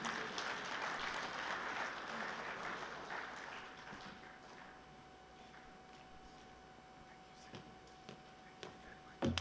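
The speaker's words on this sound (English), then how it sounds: "let's clap hands for him to encourage him" Audience applause at the Zimbabwe Labour and Employment Summit for the minister, fairly strong at first, then thinning and fading over several seconds, heard faint and distant.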